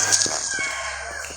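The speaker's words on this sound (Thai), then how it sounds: "ออภัยด้วยนะถ้าเกิดว่ามีเสียงไก่ขัน" A rooster crows in a rural home in Ban Phue, Udon Thani, Thailand, its call faint and distant behind a steady background hum.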